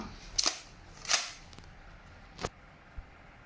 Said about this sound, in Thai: อ่าเดี๋ยวเราทดลองยิงดูนะครับ